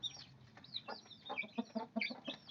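Chickens being fed, a cluster of soft repeated clucks and short squawks close by, fairly quiet, with no talking.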